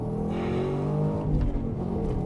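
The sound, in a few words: Chevrolet Camaro SS 1LE accelerating down the straight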